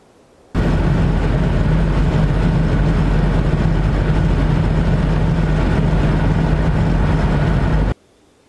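A 2006 Ford F350 with a 6.0 Powerstroke diesel drones heavily while driving under throttle, a steady loud low rumble and roar that starts abruptly and cuts off after several seconds.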